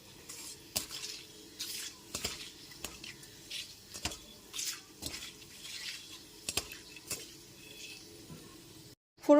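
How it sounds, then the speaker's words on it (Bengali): Cinnamon sticks, cardamom, clove and bay leaf frying gently in a pan over a low gas flame, with soft sizzling under repeated light clinks and scrapes of a utensil against the pan, fairly quiet and close. "গ্যাসের ফ্লেমটা লোতে রেখে ফোড়নটা হালকা করে ভেজে নেবো"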